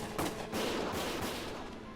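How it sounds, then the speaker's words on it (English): In Valkyria Chronicles, a burst of rapid gunfire crackles loudly over a dense, noisy background, with a few sharp cracks near the start. "Gunfire!"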